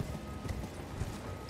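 Horse hooves clip-clop in a steady, moderately loud rhythm while riding in the video game Elden Ring, with a few heavier thuds and a faint whinny-like tone in the background.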